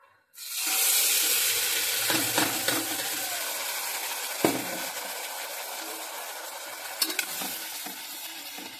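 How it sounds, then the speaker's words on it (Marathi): Cumin seeds and spices hit hot oil in a pot with a sudden loud sizzle that keeps crackling steadily, with occasional clicks of stirring. "त्या भांड्यात थोडे जिरे टाकून परतून घ्यायचं"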